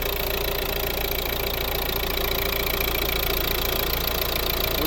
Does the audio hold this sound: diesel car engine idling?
yes